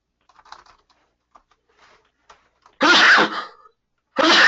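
After a few faint keyboard taps, a sudden loud sneeze bursts out close by, and a second forceful sneeze or cough begins just at the end.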